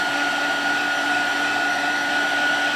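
A heat gun blows steadily to dry alcohol ink blends on vellum, a constant loud whirring roar with a tonal whine running unbroken and close throughout, no talking.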